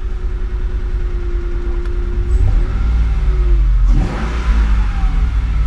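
The engine of a 2003 Mercedes CLK 430 under rebuild runs close by with a rumbling idle, then gets a quick rev that rises and falls twice. There is no talk over it.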